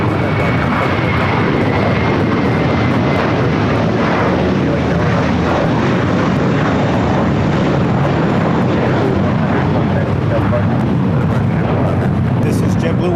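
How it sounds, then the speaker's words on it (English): JetBlue Airbus A321, nine years old, departing LAX for Fort Lauderdale, a loud, steady broadband jet roar that fills the whole stretch without letting up. "This is JetBlue 100 going to Fort Lauderdale on a 9-year-old Airbus A321"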